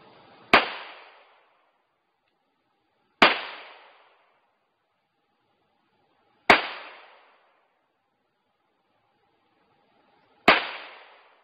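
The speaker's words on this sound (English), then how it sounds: "Shooting really, really high, so I'm kind of guessing and holding it above it." Four sharp, separate .22 rifle shots during target practice, each a crisp crack with a short decaying tail, evenly spaced about three seconds apart, fairly close and alone with no talking.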